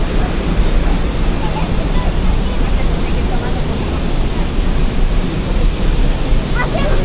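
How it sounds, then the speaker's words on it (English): A waterfall roars steadily and loudly nearby, a dense unbroken rush of falling water filling the whole clip. "So you can see how close we are to the waterfall here."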